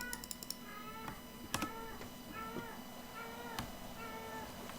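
A house cat meows several times in short, clear calls spread across a few seconds, with faint clicks in the background and no talking.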